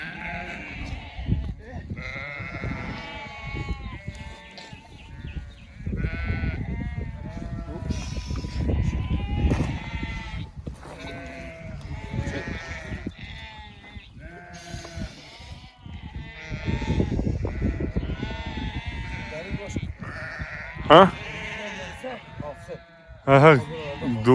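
A flock of Akkaraman sheep bleats on the slopes of Mount Ağrı. Many overlapping bleats rise and fall, some near and some farther off, while people talk throughout.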